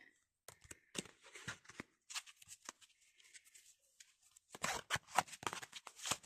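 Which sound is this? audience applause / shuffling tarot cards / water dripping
shuffling tarot cards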